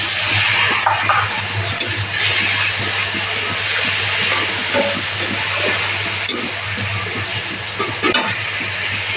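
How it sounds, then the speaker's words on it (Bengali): Potato and spice masala fries in a pan, a steady sizzle and hiss with occasional stirring scrapes and clinks, close and continuous with no talking. "এখন আলু মশলাটা ভাজা হয়ে গেছে"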